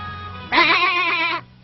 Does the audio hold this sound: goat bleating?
yes